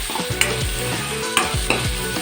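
Tomato masala for chole frying in a pan while a spoon stirs it, with a steady sizzle broken by a few sharp scraping strokes, close and moderately loud.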